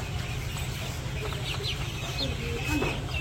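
Clucking from a flock of farm chickens on a village poultry farm, continuous and close against a steady low background drone, with scattered short calls throughout.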